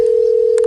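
A steady, loud telephone dial tone hums continuously while a call is being placed, with a faint click near the end.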